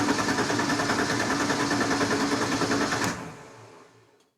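A TVR S3 engine cranks with the throttle held wide open and no ignition, a fast rhythmic churning that runs for about three seconds and then stops abruptly, leaving quiet.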